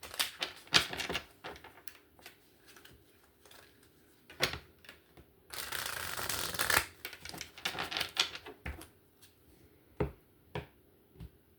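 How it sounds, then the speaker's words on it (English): Tarot cards shuffled by hand, a series of crisp close riffling bursts and taps with one longer, denser shuffle in the middle, no talking. "One more shuffle."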